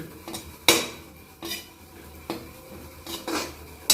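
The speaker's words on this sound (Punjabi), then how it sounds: "ਹੁਣ ਕਰਾਂਗੇ ਆਪਾਂ ਸੋਗੀ ਰੋਸਟ" Semolina (sooji) roasting in a pan for churma while a spoon stirs it, giving sharp metallic clinks and scrapes every second or so, close and clear with no talking.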